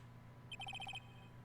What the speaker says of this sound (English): what is with this stupid-sounding ringtone?